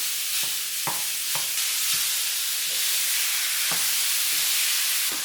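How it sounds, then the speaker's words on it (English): Ground beef sizzling in a pan with browned onions, a steady loud frying hiss punctuated by regular scraping knocks of a spoon breaking up the meat. "Now we're going to add in the ground beef. Break up the ground beef."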